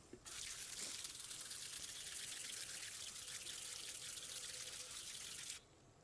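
Water runs steadily over tumbled rocks being rinsed out of a rock tumbler barrel, a continuous close gush lasting about five seconds before cutting off, with no voices.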